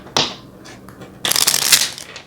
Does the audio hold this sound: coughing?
no